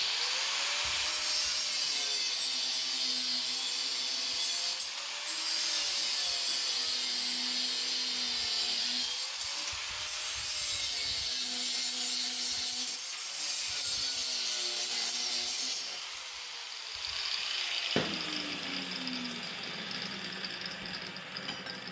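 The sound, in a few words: cutting off excess metal for a side-by-side windshield frame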